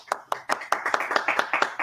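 A virtual clap for apprenticeship award finalists, heard as quick, close handclaps from one or a few people in a brisk, slightly uneven rhythm over a faint murmur.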